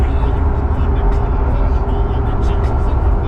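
Steady low rumble of a car driving on the road, loud and continuous throughout with road noise filling the low end, no voices breaking through.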